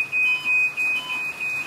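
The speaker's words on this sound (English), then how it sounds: "I hear beeping" A crash-damaged golf cart being rebuilt beeps while in reverse, giving a rapid series of five evenly spaced high electronic beeps, loud and close, with no talking.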